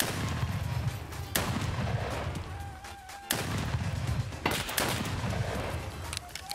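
Gunfire in Escape from Tarkov as a player shoots at a scav: a handful of loud, separate shots spaced a second or two apart, with a steady low rumble of game ambience between them.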